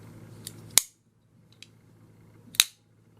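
Joe Caswell EDX folding knife with its release tab pushed up and the blade folding shut: two sharp metallic clicks about two seconds apart, close and crisp, with faint handling noise between them.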